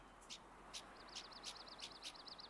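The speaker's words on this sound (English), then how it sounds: "Oh no, it's a bird." A bird calls in a Yukon wilderness in the hunting game Hunter: Call of the Wild, a faint, high, repeated chirping series of quick notes heard at a distance over a steady wind-like hiss.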